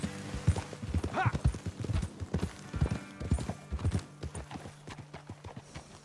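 Horse hooves clip-clop steadily in Red Dead Redemption 2, a quick rhythmic run of close, crisp hoofbeats with a brief high whinny partway through, then tapering off.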